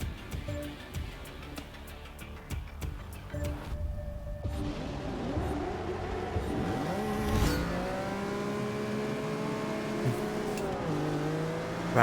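A race car engine in Forza Motorsport 6, revving and shifting through gears with rising and falling pitch sweeps, steady and loud throughout, with brief tire noise and no talking.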